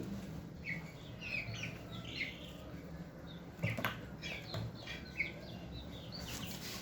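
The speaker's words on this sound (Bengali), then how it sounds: "আমি কিছু মুরগির বাচ্চা কিনেছি" Young chicks a few days old peep in scattered high chirps close by over a low background hum, with a couple of brief knocks partway through.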